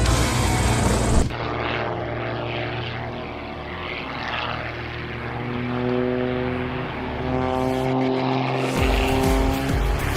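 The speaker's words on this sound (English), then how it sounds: "Look at that plane go!" A propeller airplane flies aerobatics, its engine whine rising and falling in pitch as it swoops past close and loud, with a brief cut in the roar partway through.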